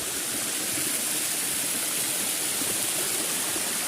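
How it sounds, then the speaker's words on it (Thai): Water pours steadily over a village-built overflow weir, a dense, even rush like a small waterfall, loud and close with no break and no voices. "ผมได้ยินเสียงน้ำไหมครับ"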